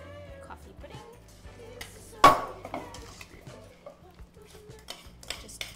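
Metal whisk clinking and scraping against a pot while stirring hot chocolate and butter for a whisky chocolate pudding, with one sharp louder clatter and quieter rhythmic stirring throughout, talk faintly in the background.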